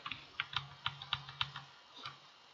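Brisk typing on a computer keyboard, about a dozen crisp keystrokes in an uneven run with a short pause near the end, close and fairly quiet.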